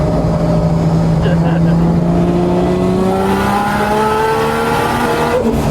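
A 1989 Nissan S13 Silvia street-legal drift car pulls hard in fourth gear, its loud engine tone rising steadily in pitch throughout, heard close from inside the cabin.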